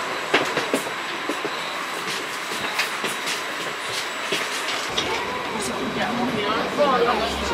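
An Italian Intercity train running along the coast toward Levanto in the Cinque Terre, a steady close rumble of the carriage with faint clicking and rail noise throughout, people talking over it.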